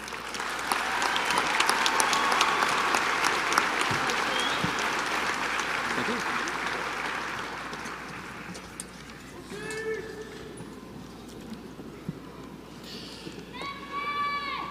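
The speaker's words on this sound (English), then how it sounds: "Please give him a round of applause." A high school graduation audience applauds the principal's introduction, with broad clapping that swells early and slowly fades, giving way to scattered sounds and a few voices toward the end.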